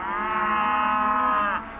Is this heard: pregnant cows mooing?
yes